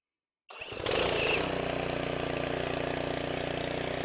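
An Earthquake string trimmer engine fired by an electric starter: silence, then a brief cranking whir that catches into a loud, close, buzzing idle running steadily to the end.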